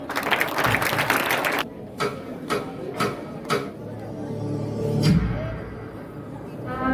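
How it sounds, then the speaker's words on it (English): A school audience applauds student performers after a Bhagat Singh-themed act at an Independence Day celebration: a dense burst of applause dies down into a few scattered claps, then a voice speaks over the room's background. "Clap for them."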